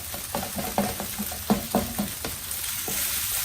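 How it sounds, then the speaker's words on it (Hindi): A fried egg is stirred and broken into pieces with a spoon in a sizzling pan while making egg fried rice, with a run of fairly close, rhythmic scraping taps over a steady frying hiss and no talking. "अब हम इसको इस चम्मच हिला देंगे। ऐसे इसके पीसेस हो जाएंगे।"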